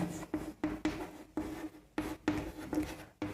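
A maths answer written by hand, a crisp close run of about ten separate pen strokes scratching across paper in quick, uneven bursts with short pauses between them.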